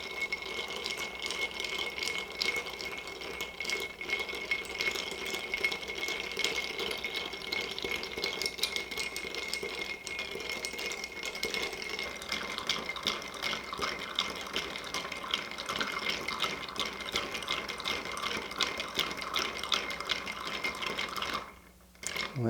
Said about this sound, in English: You probably want to stir about 20 seconds just to get it all mixed up and chilled